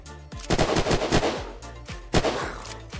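Gunfire in the video game Unturned: a string of sharp, loud shots in quick bursts, several close together then a pause and more, with no talking.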